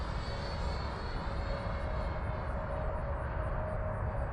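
Steady whining engine drone of a Freewing L-39 80mm electric ducted-fan RC jet flying overhead at half throttle, a continuous moderate roar with a high tonal whine.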